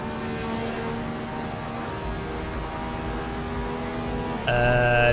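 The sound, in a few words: Radical SL3 XXR race car engine revving, Assetto Corsa video game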